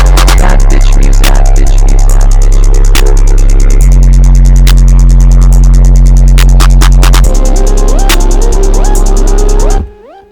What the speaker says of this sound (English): You can just hear the 808s more clearly